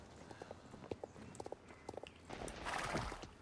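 Horse hooves clip-clopping in the Star Stable video game, a fairly quick, regular walking rhythm of light knocks, followed by a louder burst of rustling or wind noise near the end.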